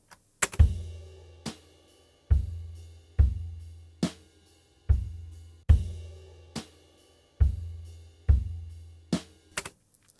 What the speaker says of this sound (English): So this is the sound of my drums without anything.